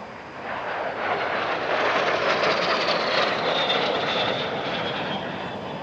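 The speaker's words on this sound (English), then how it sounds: "Perhaps the most common type of classic jet on the airshow circuit worldwide is the L-39 Albatross" An L-39 Albatross jet trainer, a late-1960s Warsaw Pact design, passes at an airshow near Paris-Villaroche, its steady broadband jet roar swelling and holding loud for several seconds before easing slightly as it moves away.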